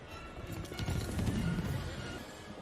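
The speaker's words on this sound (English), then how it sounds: "That's the demon horse." The demon horse in the 1999 film Sleepy Hollow gives a loud, shrill neigh with hooves clattering beneath it. It sounds faint and distant in the mix, with no talk over it.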